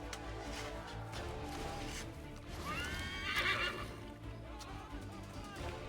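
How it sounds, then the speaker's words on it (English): A horse whinnies in the Assassin's Creed 3 Remastered video game, a loud rising and falling neigh midway through, with hoof clip-clops and game ambience around it. "Where's my horse?"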